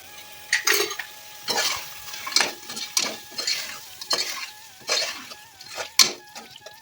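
Mutton biryani ingredients are sautéed in a pan on high flame, with a spoon scraping and stirring in repeated strokes over a steady sizzle.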